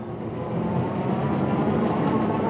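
Tomofree x YYG BR100 moped-style e-bike accelerating on throttle, a steady broadband whir and road rumble that swells slightly and holds for a few seconds, close and continuous with no talking.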